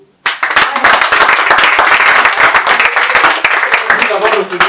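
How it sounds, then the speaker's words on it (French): A conference audience at a fifteenth-anniversary event bursts into loud, close applause, many hands clapping in a dense, steady patter that starts abruptly and holds for several seconds. "Applaudissements pour vous."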